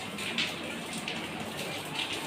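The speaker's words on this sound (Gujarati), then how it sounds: "ઘણો ઘણો વરસાદ ચાલુ હતો અહીંયા" Heavy rain falls steadily, a dense, even hiss with scattered patters of drops throughout.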